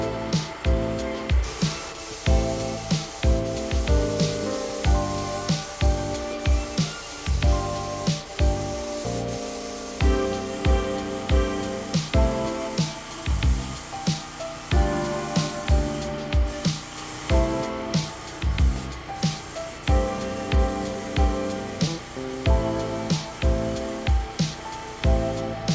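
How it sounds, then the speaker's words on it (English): A spray gun with a 1.3 tip lays epoxy primer on a 1993 Corvette C4 in a shop. Close, loud hissing comes in rapid, regular bursts throughout. "let it run smooth on the car, spray smooth on the car"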